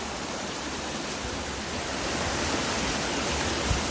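A river rushes steadily near a log crossing in the woods, a dense, even hiss of flowing water, moderately loud throughout, with no one speaking.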